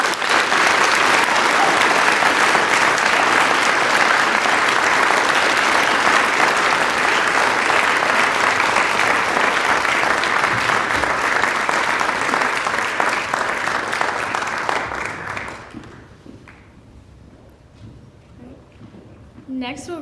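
Convocation audience at a Founders Day ceremony applauds steadily and loudly for about fifteen seconds, then the clapping dies away into quiet room murmur; dense, sustained clapping throughout.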